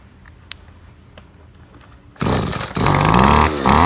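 A Husqvarna 225L commercial grass trimmer starts after a quiet moment and a small click, then its two-stroke engine roars loudly and close, with a sharp rise in revs partway through.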